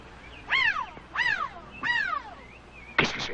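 A man imitates a bird call with a voice, giving three clear rising-and-falling whistled cries in a steady rhythm, followed by a brief burst of noisy rustle, close and fairly loud in a quiet outdoor scene.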